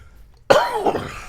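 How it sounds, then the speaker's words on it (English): A single harsh cough, sudden and close, followed by a brief rasping throat-clearing tail, with quiet room tone before it. "Sorry for that cough, man."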